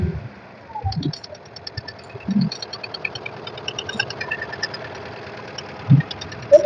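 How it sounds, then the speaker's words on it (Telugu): A 2015 Volkswagen Vento TDI 1.5 diesel with about 150,000 km idles close by, a steady clattering tick with a few louder knocks and thumps scattered through. "ఓకే, బండి స్టార్టింగ్ లో ఉందండి"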